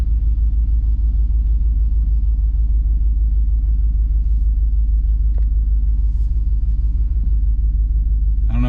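A GMC Yukon SUV engine idles with a deep, constant low rumble that sounds uneven, rough and lumpy, close by and steady throughout.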